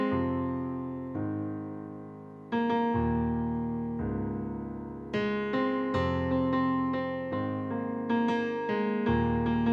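A piano plays the verses of a song: slow, sustained chords struck roughly every second and a half, loud and close, each ringing out before the next, with no voice.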